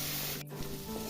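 Vegetables seasoned with chili powder and salt sizzle in a hot pan for Maggi Manchurian, a steady close frying hiss with a brief scrape of stirring midway.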